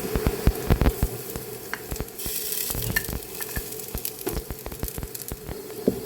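Garlic sizzles as it fries in a pan while vegetables are being cooked. A steady crackle runs throughout, broken by frequent sharp clinks and scrapes of stirring, with no one speaking.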